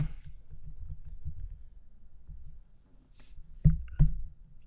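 Light, quick clicks of typing on a computer keyboard, quiet and close, with a couple of sharper key or mouse clicks near the end.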